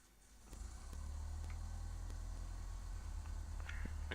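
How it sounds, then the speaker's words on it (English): A light aircraft's piston engine starts up during a preflight checklist, the steady low engine drone building after the start and running on at a fairly quiet level. "We've got the engine start."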